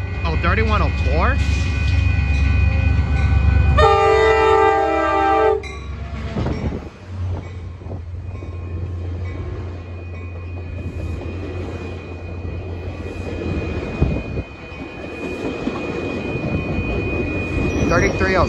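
An ACE commuter train leaves Santa Clara Great America station, opening with a loud blast of the multi-tone horn over heavy engine rumble, then a quieter lingering roll of cars as it pulls away, with some talking.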